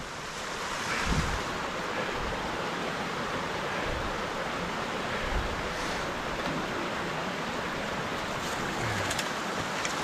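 Water rushes steadily close by near the Telephone Pioneer shelter on a hiking trail, a continuous broadband wash with some wind buffeting the microphone and no voices.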